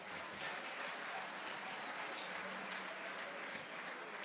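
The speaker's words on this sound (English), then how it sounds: "can we give him another rounding of applause?" Faint, steady applause from an audience at a State of the Province address, heard from a distance and sustained without talk.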